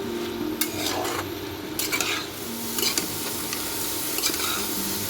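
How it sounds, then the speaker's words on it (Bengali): Onions fry with snake gourd in a pan, giving a continuous close sizzle with repeated metallic stirring scrapes against the pan. "পেঁয়াজটা দিয়ে আমি এটা দিয়ে খুব ভালো করে ভেজে নেব, লাল লাল করে।"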